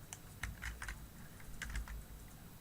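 Keystrokes on a computer keyboard in short irregular bursts of clicks, close and fairly quiet, with a low steady room hum beneath and no talking.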